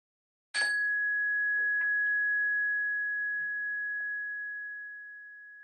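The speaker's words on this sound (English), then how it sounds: "one strike of this chime, gently calling us to the present, listening for the very last trace of this fading, evanescent sound" A meditation chime struck once, a bright clear ring that sustains as a pure tone and slowly fades over several seconds, with faint background rustles.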